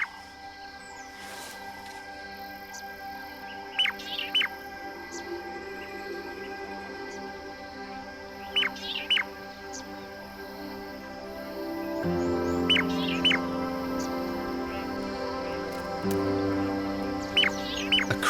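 Crimson-breasted shrikes, a male and female pair, trade a dawn duet in open country: short, sharp whistled calls repeat in paired bursts every few seconds over a steady background of insects and birds, with no talking.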